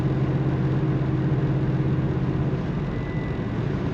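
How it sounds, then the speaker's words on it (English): A 1972 Chevrolet Nova two-door post car with an automatic transmission is heard from inside while driving, its exhaust giving a steady low rumbling drone with a slight rise and fall. "a great sound coming from that exhaust"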